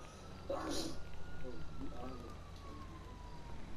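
An ambulance siren in GTA V drifts in the distance as a thin, steady wail under a low game rumble, with brief scattered sounds.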